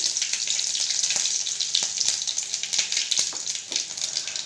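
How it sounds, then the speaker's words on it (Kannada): Mustard seeds and garlic cloves frying in hot oil, a loud continuous bright sizzle with rapid crackles and pops throughout, close and alone with no speech. "ಎಣ್ಣೆಗೆ ಸ್ವಲ್ಪ ಸಾಸಿವೆನ ಹಾಕ್ಕೊಳ್ಳಿ. ಒಂದು 2ರಿಂದ 3 ಎಸಳು ಬೆಳ್ಳುಳ್ಳಿನ ಹಾಕ್ಕೊಳ್ಳಿ"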